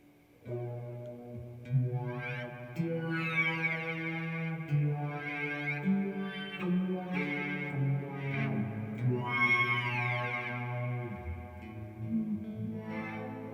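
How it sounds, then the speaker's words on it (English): A guitar played through an amp's twangy spring reverb combined with a digital reverb pedal rings out in sustained, washy chords and long echoing tails with a fuzzy, synth-like edge, loud and continuous with no talking. "You're combining the spring reverb of the amp, which is nice and twangy and has a beautiful tone to it, with the digital pedal sound"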